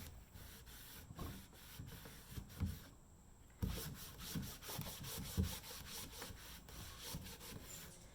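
Sandpaper rubbing over a decoupaged wooden door being aged and distressed, with close, uneven scratchy strokes in bursts, a short pause near the middle, then steady rasping passes.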